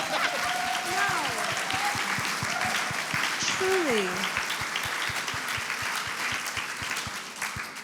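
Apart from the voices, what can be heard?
audience applause for the singers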